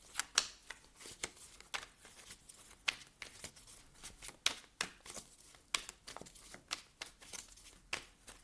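Tarot cards shuffled and drawn during a reading, with a steady run of soft, close papery flicks and riffles scattered across several seconds, no voice over them.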